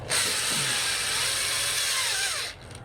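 A power drill whines steadily at high pitch for a couple of seconds, close by, drilling a hole for a Dodge Dart Swinger trunk emblem, then stops abruptly.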